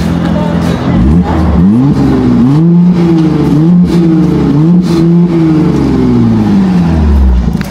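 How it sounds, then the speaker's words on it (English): A Mercedes SLC 43 AMG's 3-litre twin-turbo engine revs repeatedly, pitch climbing and falling in several loud throttle blips, close and sustained. "Let me rev it for you guys to hear."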